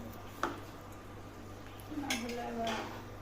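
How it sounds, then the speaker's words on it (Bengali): Kacchi biryani with plenty of watery gravy being stirred in a pressure cooker, a utensil scraping and clinking against the metal pot in a few scattered knocks over a low steady hum. "এই যে নেড়ে চেড়ে নিচ্ছে, যাতে ঝোল ঝোল বেশি হয় আর খেতেও মজা হয়"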